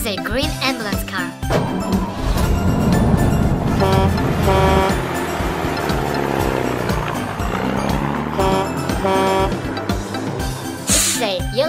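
A yellow toy school bus plays a bright electronic jingle with short horn-like beeps over busy, layered toy sounds, loud and continuous.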